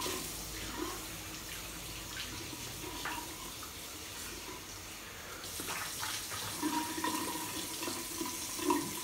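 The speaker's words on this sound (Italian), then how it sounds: "ci sciacquiamo adesso il viso con l'acqua fredda" Cold tap water runs and splashes as a face is rinsed after a traditional wet shave, a continuous hiss with irregular splashes and drips, moderately close and without talk.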